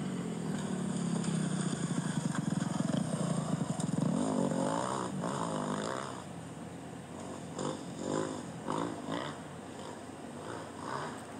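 Motorcycle engines rev and drone in the distance at a riding track, a buzzing rise and fall that fades into scattered, fainter bursts of revving.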